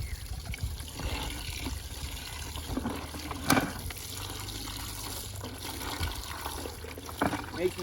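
Water emptied from a bucket after rinsing clothes outdoors on a hiking trip, a soft continuous splashing and trickling with a few louder knocks, steady throughout.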